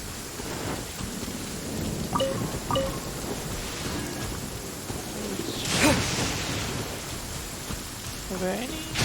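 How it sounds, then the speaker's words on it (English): Steady rain pours with rolling thunder in the video game Genshin Impact, a continuous hiss with a louder rumble near the middle and faint game effects on top. "raining?"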